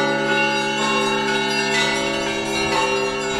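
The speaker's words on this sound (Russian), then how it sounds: "этот колокольный звон – это не просто запись в колонках, это живое, то, что происходит сейчас" Church bells ringing live at Kolomenskoye, a historic Moscow estate, heard as a dense, loud, continuous peal of overlapping strikes with a rich, sustained tone throughout, with no talking.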